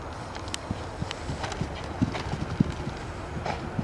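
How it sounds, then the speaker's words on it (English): Horse hooves thud on the ground during a show jumping clinic session, a string of close, heavy beats in an irregular rhythm with soft rustling between them and no talk. "when the horse's front feet hit the ground"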